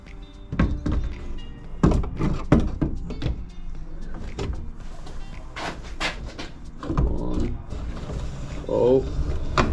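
A wooden drawer is pushed and fought into a camper van's kitchen cabinet, giving a series of hollow thunks and scraping knocks at irregular intervals, with someone speaking now and then between the impacts.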